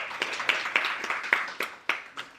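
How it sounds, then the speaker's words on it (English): A small audience claps for a speaker at a creative entrepreneurs' branding talk, a handful of distinct, fairly close claps in an uneven rhythm fading out after a couple of seconds. "let's give her a round of applause as well"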